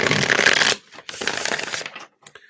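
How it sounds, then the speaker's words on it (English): A deck of tarot-style cards is shuffled close up, with a dense riffling rush followed by a shorter second run of flicking and sliding card sounds, then a few soft taps as it settles. "I'm going to shuffle the entire deck for all questions"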